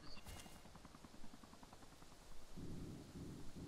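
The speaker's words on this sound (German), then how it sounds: "Ist das der Heli, der schießt?" A helicopter in the DayZ Overpoch video game gives a faint, distant, rhythmic blade chop, with a low rumble building later and a voice talking over it.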